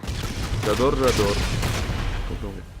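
Explosions and gunfire from an online multiplayer match of the video game Call of Duty: Infinite Warfare, with grenade blasts amid a steady loud barrage of shots, and a voice speaking over the combat noise.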